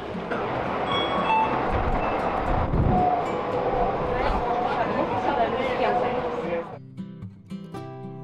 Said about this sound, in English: There are many means of transportation in Dubai, and one of them is monorail.